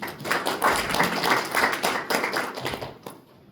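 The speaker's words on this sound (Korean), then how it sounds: "박수로 환영해 주십시오." Audience applause at an autumn policy forum of a maritime labor union council, dense clapping filling the room for about three seconds before tapering off.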